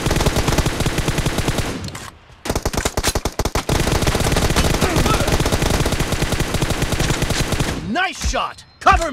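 Rapid sustained automatic fire from M4 rifles in a shooter video game, long loud bursts of closely spaced shots with brief pauses, ending in a few scattered reports and a short voice.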